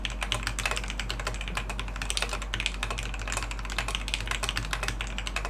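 Rapid, crisp clicking of a mechanical keyboard being typed on steadily, close up, with a low electrical hum underneath.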